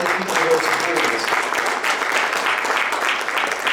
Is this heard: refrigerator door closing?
no